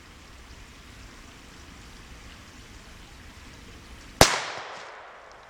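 A single sharp gunshot from a shotgun loaded with a subcaliber insert, one loud close blast after a few seconds of quiet outdoor ambience, followed by a brief decaying echo.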